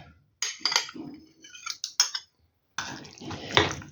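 Minced meat being mixed with grated onion and an egg in a bowl, with sharp clinks and scrapes of a utensil against the bowl in short bursts and pauses, close and fairly loud.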